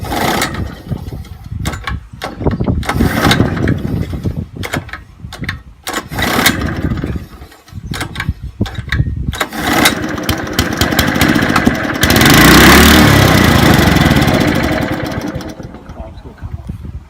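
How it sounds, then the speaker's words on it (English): Honda HRH536 lawn mower, stored for over two years, pulled over repeatedly as someone tries to start it; bursts of cranking and engine noise, loud and close, that fail to catch. "So as you saw, the mower didn't start."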